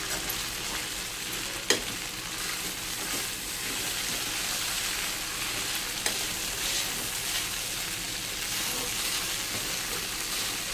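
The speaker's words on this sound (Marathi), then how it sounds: "टाकले पोहे आणि त्याला हलवून घ्यायचं असं मस्तपैकी." Poha frying in a pan, a dense, even sizzle continuing throughout, with a couple of sharp clinks from the stirring spoon as the flakes are tossed and mixed.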